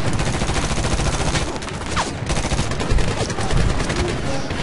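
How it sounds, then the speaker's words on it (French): Rapid burst-mode gunfire in the Medal of Honor video game, loud continuous volleys of shots filling the whole stretch, close and dense. "Si j'étais en mode rafale, allez, regardez ce que ça donne au mode rafale"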